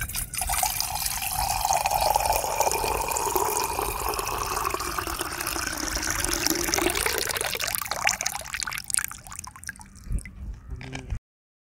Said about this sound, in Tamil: இதுதான் செம்பு சொம்பு, பார்த்துக்குங்க. தண்ணி வச்சுருவோம்.